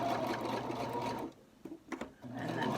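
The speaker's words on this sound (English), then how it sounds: "We are going to put our pressure foot down, back up a couple of stitches to lock it in place" A sewing machine back-stitches a fabric face mask with a steady close whir of stitching, a short pause with a couple of clicks, then the whir starts again.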